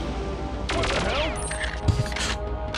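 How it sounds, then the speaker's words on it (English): Gunfire bursts from the video game Perfect Dark, a rapid clatter of shots over a steady game background hum, fairly quiet and brief, with no voices. "Where are these bullets coming from?"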